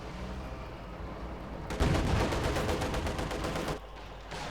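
Gunfire from the Company of Heroes 2 battle, with a T-34-76 tank rolling forward: a dense, loud burst of rapid repeated shots about two seconds long, rising out of a steady background battle rumble and then dropping back to it.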